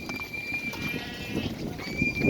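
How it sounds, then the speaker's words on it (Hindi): Goats offered for sale at a livestock market before Eid, a steady crowd-like bustle of animals with faint bleats and shuffling hooves, mid-distance, continuous for a couple of seconds. "ये आप चेक करें तगड़े बकरे माशाल्लाह सारे सेहतमंद"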